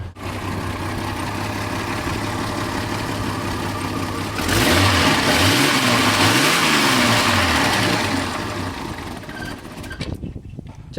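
A 1989 Jeep Cherokee's 4.0L inline-six runs close by at a steady idle, then is revved several times in rising and falling sweeps before settling back toward idle.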